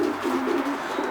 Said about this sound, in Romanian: Prezintă-ne, te rog, cei mai buni porumbei ai sezonului 2012.